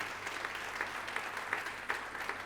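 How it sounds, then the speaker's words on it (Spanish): A church congregation applauds during a sermon, a soft, steady wash of many hands clapping at a distance with a low hum underneath. "Un fuerte aplauso, denle al Señor."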